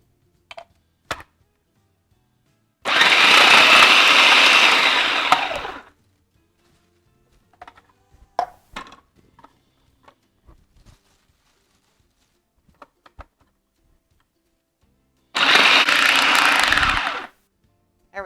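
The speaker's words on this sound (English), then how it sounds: "And I'm going to use my food processor." A food processor shreds Brussels sprouts in two loud whirring bursts of about three and two seconds, with quiet kitchen clatter and clicks in between.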